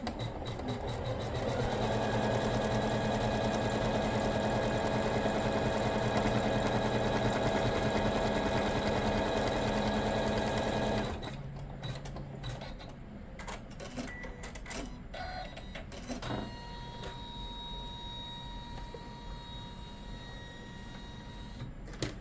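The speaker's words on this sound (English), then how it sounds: "put it in the hoop, and this time it's going to stitch down this side to secure the lining piece" An embroidery machine stitching down the lining of an in-the-hoop box bag, a loud steady mechanical whir for about eleven seconds, then a quieter stretch of rattles and clicks from the machine and hoop handling, no talking.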